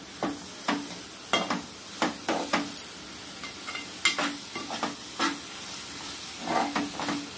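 Ginger garlic paste and garam masala paste fry in hot oil for a mutton curry, a steady close sizzle broken by regular scraping stirs of a spoon in the pan.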